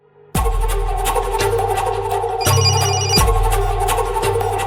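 A telephone rings in a Malayalam TV serial scene, its electronic bell trilling loudly and continuously in repeated bursts with no talk over it.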